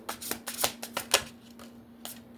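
Tarot cards being shuffled by hand, a run of crisp papery riffles and slaps in uneven bursts, close and fairly loud, fading to a few lighter flicks near the end.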